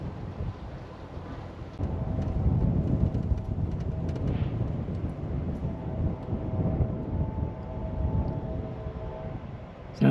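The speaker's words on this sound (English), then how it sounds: "Sounds like another train somewhere." A distant train in a CSX rail yard sends a low, steady rumble that swells after a couple of seconds and holds under broad outdoor noise, with no voices.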